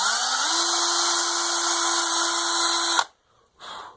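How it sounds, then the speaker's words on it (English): A power drill whines at a steady high pitch for three seconds, bores through the base of a skull, stops abruptly, then gives one short burst. "To mount it, we're going to go ahead and drill a hole"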